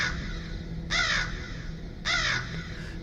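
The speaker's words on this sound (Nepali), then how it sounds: "पिपलको कुनै हाँगामा बसेको कुनै मांसाहारी चराले कर्कश आवाजमा चिच्यायो" A carnivorous bird perched on a peepal tree branch lets out two harsh, raspy screeches about a second apart, loud and close against a steady background hum, with no talking.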